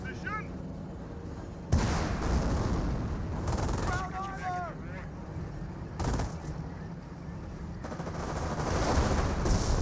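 Thompson submachine guns rattle in dense bursts during a Company of Heroes battle against Panzer Grenadiers, with booming impacts and continuous gunfire under a commentator's voice.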